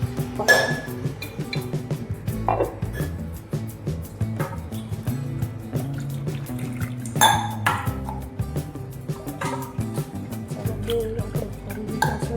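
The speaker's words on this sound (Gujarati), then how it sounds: "ચાલો બરફ મૂકી દીધા છે" Ice cubes dropped into glasses for sherbet in a home kitchen give scattered sharp clinks and pings at irregular intervals, close by, with faint dish and liquid sounds between.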